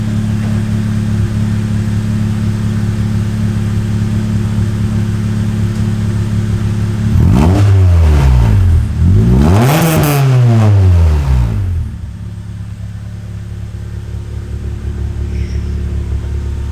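A Honda EK hatchback with a 3-inch custom exhaust idles with a low steady burble, then revs twice in quick succession, each rev rising sharply and falling back, before settling into idle again, loud and close.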